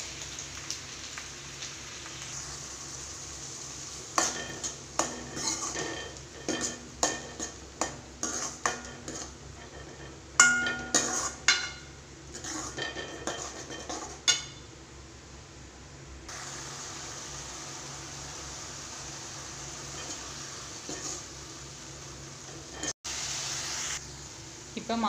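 Stirring ground tomato into sautéed onions and spices in a pan for a bitter gourd tamarind curry: irregular clinks and scrapes of a utensil against the pan over a soft sizzle, with pauses between bursts.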